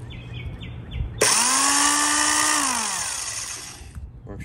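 A vintage Milwaukee impact gun spins up clockwise with a loud whine and rising harmonic tones, holds steady for about three seconds, then winds down, close and isolated.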